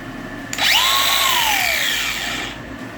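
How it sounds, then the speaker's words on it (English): An angle grinder with a cutoff wheel cuts into a steel grout removal bit, a loud high whine that rises sharply, holds steady and then slowly trails off, with no voices. "You have to modify this bit with a grinder"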